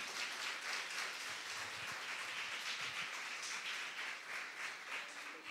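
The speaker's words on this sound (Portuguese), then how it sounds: "Então aplaude ao Senhor." Applause from a church congregation at a Lord's Supper service fills the space, a steady wash of many hands clapping throughout, with no talking over it.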